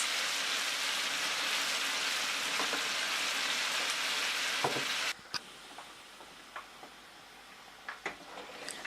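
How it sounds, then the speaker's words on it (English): A batch of chicken gizzards fries in a pan over medium-high heat, a loud steady sizzle that suddenly drops to a quieter crackle with scattered pops and spatters. "here I'm just adding the first batch of gizzards to fry on medium to high heat"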